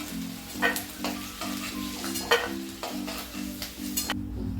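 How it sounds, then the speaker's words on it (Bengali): Peanuts fry in a pan under a constant sizzle while a spoon stirs them in repeated scraping strokes, close up, over a steady low hum. "এই দেখুন আমি বাদামগুলো আগে ভেজে নিচ্ছি।"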